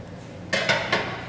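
Three quick clinks as a roller ring is set onto the floor of a built-in microwave oven, model GL 673, close and distinct in a quiet room.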